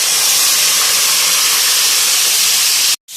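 Marinated chicken dropped into a pan of hot browned onions for chicken tikka biryani, giving a loud, steady, close sizzle and hiss that runs unbroken for about three seconds before cutting off abruptly.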